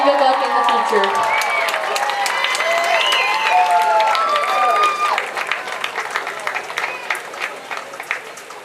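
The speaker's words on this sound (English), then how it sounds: "Let's give a big round of applause for the class of 2020." Crowd applause and cheering for the seniors at a high school football senior night, class of 2020: sustained clapping with whistles that swells, then thins to scattered claps, with a voice speaking over it.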